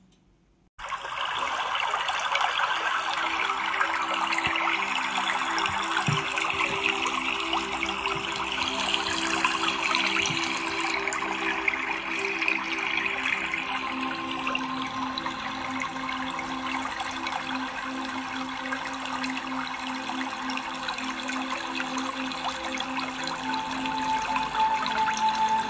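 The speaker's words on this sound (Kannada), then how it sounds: "ಇದೇ ಅಚ್ಚಕನ್ಯೆ ಫಾಲ್ಸ್." Achakanya waterfall on the Sharavati river pours in a steady, full rushing roar that begins abruptly and continues unbroken, with no voices.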